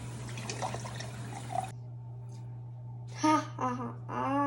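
Water poured at home for a children's gummy bear science experiment, heard as short liquid trickles and splashes after a stretch of voices, with a steady background hum throughout.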